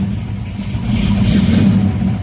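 A 1969 Chevelle SS engine runs steadily just above idle with cold oil, a continuous low rumble with a slight swell in the middle, close and alone.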